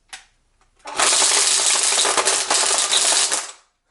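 Ryobi One Plus P2080 18V string trimmer running on low, cutting. It spins up from a brief click into a steady, loud, whirring buzz for about two and a half seconds, then winds down.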